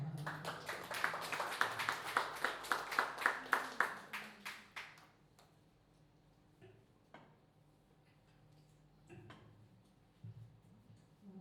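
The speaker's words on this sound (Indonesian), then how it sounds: "Sekali lagi berikan tepuk tangan." A church prayer gathering for elderly congregants gives a round of applause, heard as a burst of steady rhythmic clapping that fades out after a few seconds. A few faint knocks and rustles follow in a quiet room.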